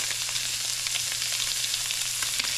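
Thick pieces of blackened redfish sizzle loudly in a hot frying pan, a dense, steady crackling hiss close by with a low hum underneath and no talking.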